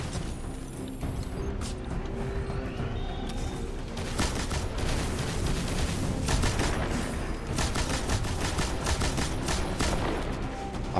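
Rapid gunfire in a video game rattles continuously as shots are poured into a tank, a dense, steady barrage with no clear pauses and no speech.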